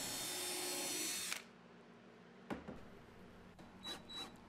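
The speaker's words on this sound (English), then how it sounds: "I'll drill a small hole first all the way through." A drill whirs steadily for just over a second, boring a small pilot hole through wood, then stops; a few scattered clunks and knocks follow in the quiet afterward.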